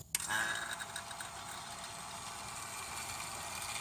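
A vacuum pump hooked to the high-pressure port of a Honda Civic A/C system starts with a click, then settles into a steady, fairly quiet mechanical hum that runs without a break.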